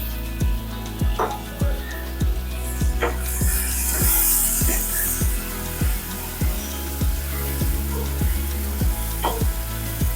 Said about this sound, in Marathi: आणि हा टोमॅटो घेतलेला बारीक केलेला तो घालूया आपण